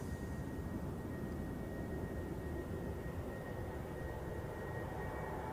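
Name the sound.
Airbus A330 heavy landing at Zurich Airport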